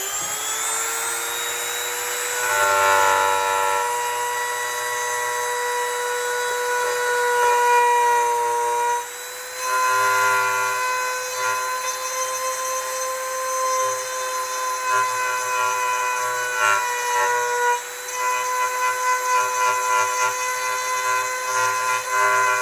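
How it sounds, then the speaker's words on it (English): A Dremel rotary tool engraves a wooden charcuterie board, holding a loud, continuous high-pitched whine that rises and falls slightly as the bit cuts into the wood, with brief dips in loudness. "And then you take your Dremel and you engrave whatever you are trying to engrave"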